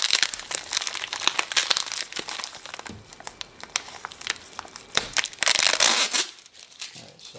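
Plastic packaging crinkles and crackles loudly as a dog stair step is pulled out of its wrapping, continuous rustling with sharper crunches close by.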